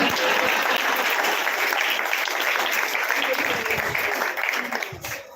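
A crowd at a temple satsang gathering claps in a sustained burst of applause that stays steady and then fades at the end.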